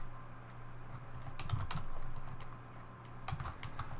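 Typing on a computer keyboard while entering Ruby code, with soft irregular key clicks in two short bursts over a steady low electrical hum, close and fairly quiet.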